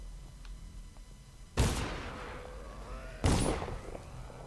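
Two heavy gunshots from Dishonored, a first-person stealth action game, crack out about two seconds apart, each booming loud and close with a long echoing tail over a low ambient game hum.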